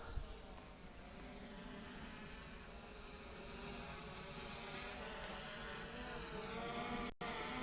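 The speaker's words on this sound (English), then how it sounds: "So camera down and descend. I'm moving out the way of the drone." A DJI Air 2S drone hovers and descends outdoors, its steady propeller whine and whir holding at an even level alone for several seconds before cutting out abruptly near the end.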